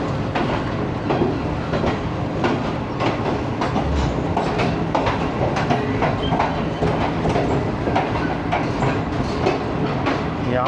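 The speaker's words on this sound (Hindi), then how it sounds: "मुल्तान के मेन प्लेटफॉर्म पर रुकेगी ट्रेन।" The Shalimar Express pulls in to stop at Multan's main platform, a loud, continuous rumble of rolling wheels with rhythmic clickety-clack over the rail joints and occasional faint squeals.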